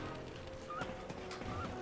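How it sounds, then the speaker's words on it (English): Cartoonish birds in the video game Psychonauts 2 give two short, honking calls, goose-like and nasal, spaced about a second apart over a steady ambient game background. "Hey, birds."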